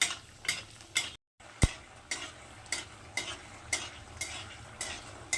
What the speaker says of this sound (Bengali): এবার বড়িগুলোকে আমি ভেজে নেব, লাল লাল করে ভেজে নেব।